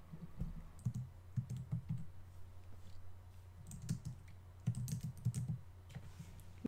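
A name being typed on a computer keyboard, quiet close-up key clicks in several short rapid bursts separated by brief pauses, with no talking.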